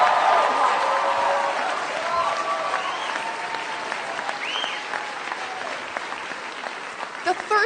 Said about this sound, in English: yes, it is worth applauding